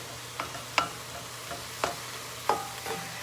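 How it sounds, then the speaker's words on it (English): Fresh tomatoes are pressed in a pan with a nylon masher, about six soft scraping knocks at irregular intervals over a faint low background, close by and without talking. "we're going to crush those tomatoes, the fresh ones also"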